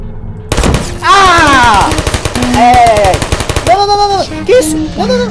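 Rapid automatic gunfire from a turret in the video game Portal, a dense close burst of shots followed by further rattling fire, with excited voices talking over it.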